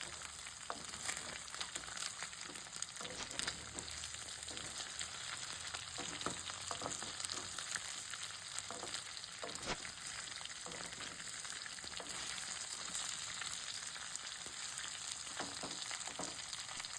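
Chicken pieces fry in hot oil as a Telugu-style chicken fry cooks, a continuous crackling sizzle with occasional stirring clicks, fairly quiet, with no one speaking.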